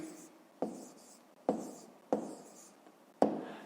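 A pen or chalk writes numbers by hand in a quiet room, marked by a series of five sharp taps on the surface, each followed by a short scratchy stroke, in an uneven rhythm.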